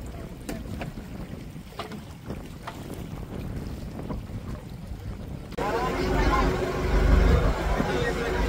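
A small boat travelling on water toward a harbour, with engine rumble and wind buffeting the microphone that swell louder partway through, and people talking in the background.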